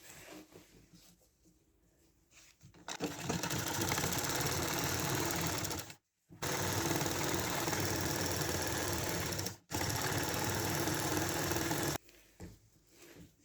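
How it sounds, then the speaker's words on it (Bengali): A sewing machine stitching a petticoat, running in a fast steady mechanical whir with two short stops, then quiet machine handling at the start and end. "এখন এখান থেকে ধরে সেলাই দিয়ে নেব"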